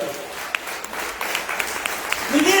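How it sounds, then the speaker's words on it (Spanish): A church congregation claps in praise during a Spanish-language sermon, a moderate, continuous patter of many hands with scattered sharper claps, swelling slightly toward the end. "denle un aplauso grande al Señor"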